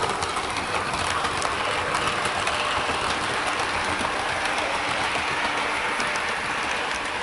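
A model Class 395 Javelin train runs steadily along layout track with continuous rattling and clicking, moderately quiet and even throughout, no voices.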